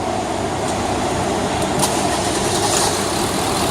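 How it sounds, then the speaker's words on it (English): A car engine, started after a battery jump-start, runs as a loud, steady, continuous rumble heard close by from start to finish, with no talk. "I'm going to have my assistant attempt to start the vehicle"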